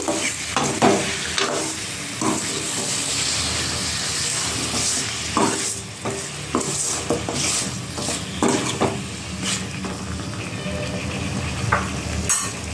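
Capsicum chicken masala being stirred in a hot pan after salt and turmeric go in, with steady sizzling and frying hiss under repeated scraping stirs against the pan, close and continuous with no talking.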